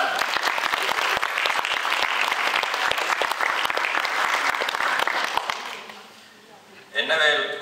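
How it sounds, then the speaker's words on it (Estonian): Applause from guests at a school autumn ball rises as the band is introduced: dense, sustained clapping that fades near the end before a voice starts speaking. "Aplaus!"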